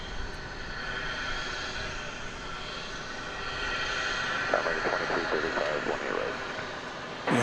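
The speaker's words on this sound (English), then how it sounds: "The Aguas Calientes flight coming in, and the flight to Lubbock, an Airbus A319." Airbus A319 airliner at Dallas Fort Worth airport, a steady broadband jet roar that swells slightly toward the end, with a voice talking over it in the second half.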